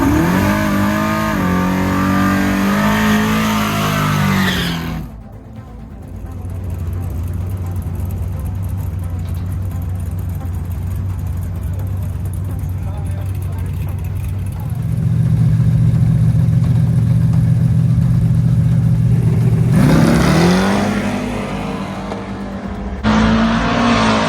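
A Malibu drag race car accelerates hard with a loud, raw engine roar that surges, holds at a steady droning pitch, then shifts up. The engine swells again toward the end, close and dominant throughout.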